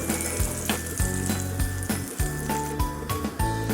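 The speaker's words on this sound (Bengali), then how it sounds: "প্যান গরম হয়ে গেছে, এবার আমরা এখানে সাদা তেল দিচ্ছি।" White oil and a little butter crackling in a hot pan for restaurant-style tandoori chicken cooked without an oven, a steady close sizzle with scattered pops and a few clanks of utensils, no voices.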